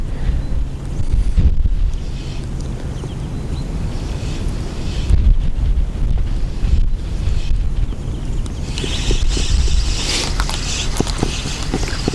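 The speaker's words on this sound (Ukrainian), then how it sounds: "Вітер тільки дуже сильний, дугу видуває здоровенно" Strong wind roars and buffets the microphone with heavy low gusts while pike fishing, joined now and then by brief rustling and flapping sounds nearby.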